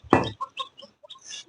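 A hen and a rooster cluck in short, close bursts, one loud call followed by a string of quieter clucks and chirps at an outdoor coop.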